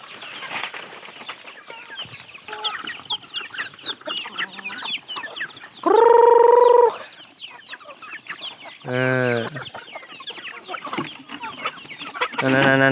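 Free-ranging native village chickens cluck and a rooster crows twice amid a busy rural farmyard with scattered bird chatter and wing flaps, fairly close.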